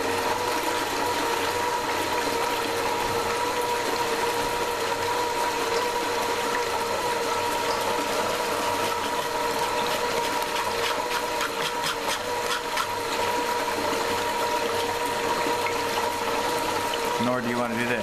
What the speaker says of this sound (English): the water that's coming out of the pump